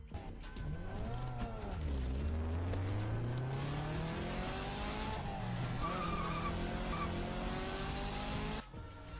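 A car switched into sport mode speeds hard, its engine revving up and down in pitch while the tires squeal and skid. The sound is loud, close and continuous, with no talking.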